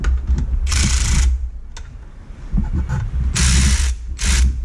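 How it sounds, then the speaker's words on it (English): A ratchet tightens bolts in two loud bursts of rapid clicking, separated by a quieter pause, heard up close with no talk. "I'm gonna have to get a ratchet for this one."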